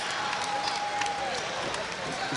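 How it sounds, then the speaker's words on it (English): A boxing crowd cheers after a knockout, a dense, continuous roar with scattered claps and shouts beneath a commentator's voice. "you can hear the crowd appreciating it"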